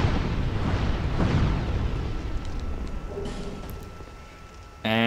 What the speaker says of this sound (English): he's going to shoot fireballs constantly